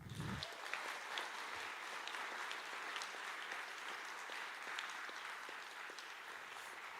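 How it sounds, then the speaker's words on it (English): An audience applauds Kars at a closing speech on diplomacy and the UN, a steady wash of many hands clapping that carries on evenly throughout, fairly distant and without talk. "it's good that you gave him an applause"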